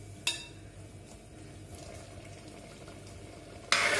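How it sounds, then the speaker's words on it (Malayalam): Vishu kanji of jaggery, rice and lentils boils in a pot, a steady close bubbling simmer with a couple of sharper clatters at the start and end. "നന്നായി തിളവന്നിട്ടുണ്ട്."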